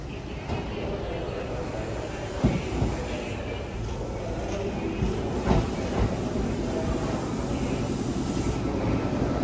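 Kintetsu snack car limited express train pulling into Saidaiji station, with a continuous rumble of wheels and motors and a few louder knocks, while station announcements play in the background.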